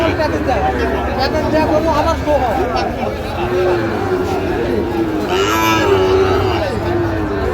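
Sahiwal calves moo repeatedly nearby at a cattle market in Chuadanga, overlapping low bellows amid a busy crowd with people chattering in the background.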